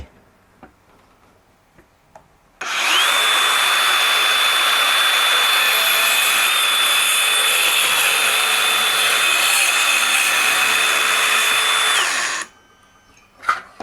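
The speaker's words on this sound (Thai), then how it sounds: "มาลองดู รอบแรกตัดแบบไม่ต่อเครื่องดูดฝุ่น" A Dewalt DCS571 cordless circular saw spins up and cuts wood for about ten seconds without a dust extractor, a loud, steady high-pitched whine that stops abruptly, with faint clicks before and after.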